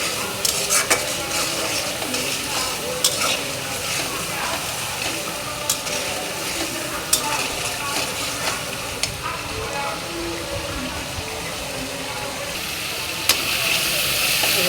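Spice paste stir-fried in hot oil, a loud, steady close-up sizzle with frequent scraping and clinking of a spoon against the pan throughout.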